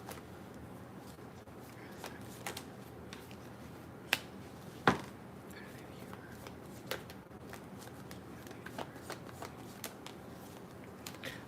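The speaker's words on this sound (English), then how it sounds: "Right before I was shuffling the cards" Tarot cards are shuffled quietly at close range: soft papery rustles with sharp riffles and snaps scattered through a low background hiss.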